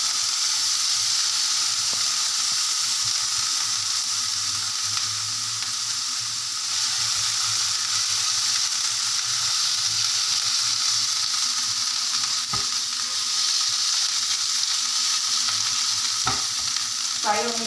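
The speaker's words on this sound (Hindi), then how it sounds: "ये मैं इसको फ्राई करूँगी।" Chicken wings frying in a pan of hot oil, a steady dense sizzle that holds throughout at close range, with a few faint clicks and clatters near the end and no talking.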